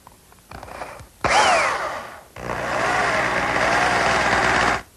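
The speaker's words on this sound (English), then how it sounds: "The first thing I want to do is drill a hole through the tenon of the short rails." A power drill spins up briefly, stops, then bores steadily through a wooden tenon for a few seconds, loud and close, the motor pitch dropping under load.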